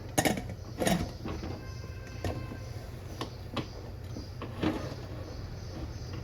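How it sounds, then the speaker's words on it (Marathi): A metal pressure cooker lid is fitted and locked, making a couple of close clanks followed by light scraping and small ticks over a low steady hum. "आणि झाकण लावायचं याला"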